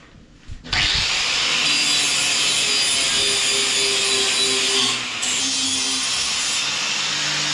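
A lawn mower blade is worked over for sharpening, giving a loud, continuous gritty grinding rasp. It starts after a brief thump, holds steady and dips for a moment partway through, with no talking.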